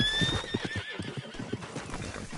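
In Red Dead Redemption 2, a horse whinnies with a rising neigh while its hooves clip-clop in a steady rhythm, moderately close and quiet.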